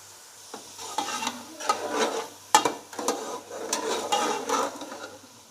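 Chicken fried rice with salt, black pepper and Chinese salt being stirred in a hot sizzling pan, a steady fry hiss broken by repeated scraping strokes of a spatula and a sharp clank midway, with no talking.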